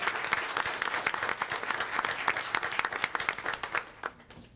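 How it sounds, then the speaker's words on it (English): An audience at a school board meeting claps in a dense burst of applause that continues steadily, then thins out and fades at the end. "So how about a round of applause for the national award-winning Harvey Seacraft."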